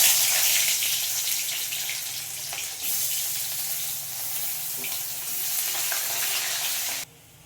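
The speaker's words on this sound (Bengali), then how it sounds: "তো এই তেল গরমে এখানে দিয়ে দেবো পেঁয়াজ কুচি" Chopped onion hits hot oil in a pan and sizzles loudly and continuously, a dense crackling hiss that carries on for several seconds before cutting off abruptly.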